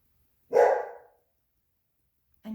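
A single loud dog bark close by in a quiet indoor craft space, followed by silence and the start of another short sound at the end.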